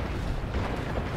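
Long-range missile fire in the BattleTech video game, a dense, continuous rumbling roar of launches and impacts with a heavy low end, steady and loud throughout without clear separate shots.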